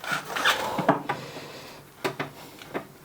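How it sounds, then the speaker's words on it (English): A chisel held sideways slices through wood on a Victorian gate-leg table being restored, producing short, close scraping strokes in separate bursts with quiet gaps between them. "And I'm taking the chisel sideways,"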